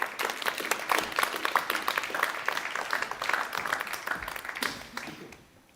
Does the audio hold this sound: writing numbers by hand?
no